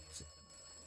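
A telephone rings in a phone booth in a Fallout video game, a single brief, bright electronic ring near the start over a faint steady tone, quiet and alone with no talk.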